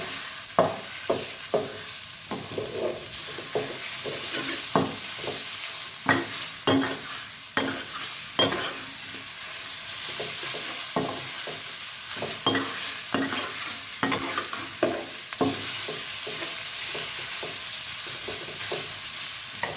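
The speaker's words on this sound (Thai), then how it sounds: "จะผัดหมูให้สุกก่อนนะคะ" Pork stir-fried in a pan until cooked, giving a constant sizzle broken by frequent sharp scrapes and clacks of a spatula against the pan, close and fairly loud, with no talking.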